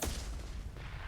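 A deep, heavy boom bursts in the video game Mass Effect 2 and rolls on as a dense, rumbling roar through the short moment, loud and close, with no voices.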